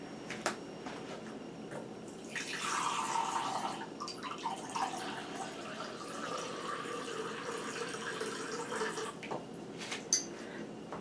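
Spring water pours into a measuring cup in a home kitchen, a steady, splashy stream lasting several seconds with a few drips before and after.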